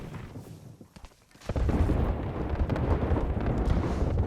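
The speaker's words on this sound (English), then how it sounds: "We've got an airstrike coming in" Airstrike explosions in the Apex Legends battle royale game: a quiet lull gives way to a sudden loud blast, then a sustained, heavy rumble of detonations rolling on without a break.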